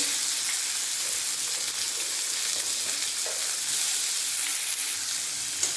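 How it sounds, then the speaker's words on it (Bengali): Chopped onions fry in a little oil in a pan for a cabbage and fish head curry, producing a steady, bright, hissing sizzle that stays close and even throughout, with no voices. "এরপর দেবো পেঁয়াজ কুচি"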